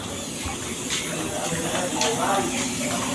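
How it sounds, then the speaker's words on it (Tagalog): A steady, close hiss of spray paint being applied as a small touch-up on a scratched Toyota Vios body panel, continuous throughout, with a few slightly louder bursts. "I-spray na natin ng pintura"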